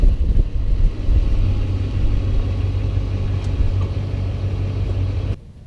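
A pickup truck's engine idles with a steady, close, low rumble as it backs up toward a fifth-wheel hitch, stopping abruptly just before the end.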